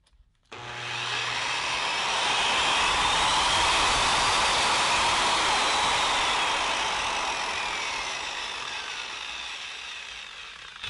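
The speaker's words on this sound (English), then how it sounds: "What I like about this polisher sander is that it's variable speed, so I can have lots of torque all the way through." A variable-speed polisher sander grinds across cured epoxy hotcoat on a wooden surfboard, a loud, continuous abrasive whir that starts abruptly and holds steady close by, easing slightly toward the end.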